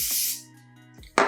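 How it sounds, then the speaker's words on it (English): Wig adhesive spray hissing in two bursts, a longer spray at the start and a short sharp one near the end, close to the microphone with a quiet pause between. "Spray that on."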